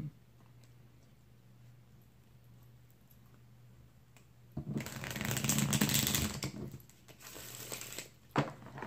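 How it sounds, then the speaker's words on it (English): A deck of tarot cards is riffled and shuffled in a quick crackling burst after a quiet stretch, followed by a few light snaps and taps. "Give it 2 more shuffles here and see what's up for Aquarius."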